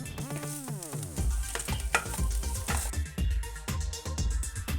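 Spice powders, including garam masala and ground black pepper, sizzle and are stirred in a hot pan for Kerala-style squid thoran, with scraping strokes and crackle over a tonal hum.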